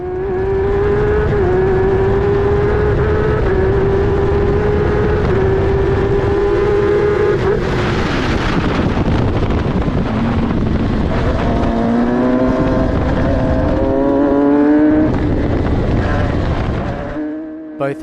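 An F1000 open-wheel race car engine screams loudly through a race, holding a high steady pitch, then dropping and climbing again as the driver shifts and accelerates out of turn one, with a brief lift near the end.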